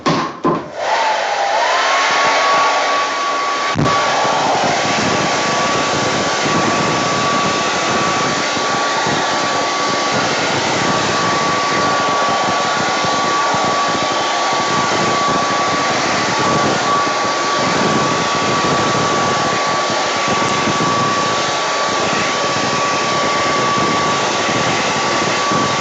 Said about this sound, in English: Let's get out the old hair dryer and see what this does now.